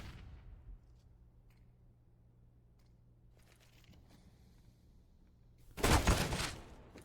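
A Counter-Strike match goes nearly quiet under a low steady hum, then one loud, sharp burst of gunfire erupts near the end and rings out briefly.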